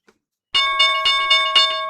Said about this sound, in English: And there's the opening bell.